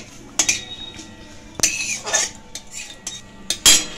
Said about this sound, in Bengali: এখানে আমি নিয়েছি শুকনো লঙ্কা, একটা তেজপাতা আর একটু পাঁচফোড়ন। এগুলোকে একটু ভালো করে ভেজে নিচ্ছি।